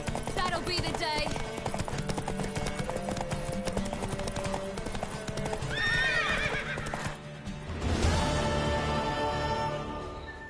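Rhythmic clip-clop of horse hooves with a loud neigh partway through, over game music and effects in The Witcher 3, with a voice speaking briefly.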